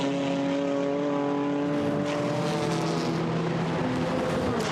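GT4 race cars, a Mercedes and a BMW, howl past on the Zandvoort circuit, their engine notes sustained and loud, shifting pitch as they pass close by, with a steady wash of noise underneath.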